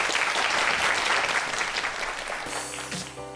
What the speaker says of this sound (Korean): 네, 박수 한번 부탁드릴게요.